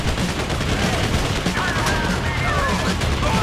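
Dense, continuous gunfire from GTA 5, a sustained rattling barrage like a minigun or fusillade, loud and steady throughout with no talk.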